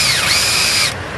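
A power drill turning a car's steering, a loud whining motor with a tone that dips then rises and holds, cutting off abruptly near the end, leaving a quieter background.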